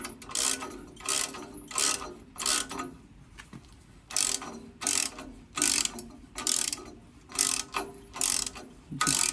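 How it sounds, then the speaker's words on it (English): A ratchet clicks in about a dozen short, close bursts while tightening bolts on a motorcycle moustache bar during a CB Performance 2017cc engine build. "let's get a ratchet on those and see if we can get those in"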